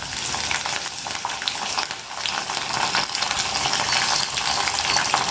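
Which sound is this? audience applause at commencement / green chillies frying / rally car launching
green chillies frying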